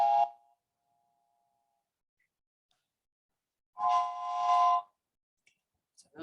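A human voice imitates a train whistle twice: a short harmonic hoot at the start, then a longer, louder one after a pause of silence.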